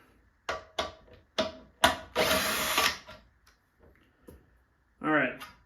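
A power drill with its torque setting turned up backs out fasteners on a red fan cover of a Power Bee Stroker engine. A single short whirring burst sounds between brief bursts of talking.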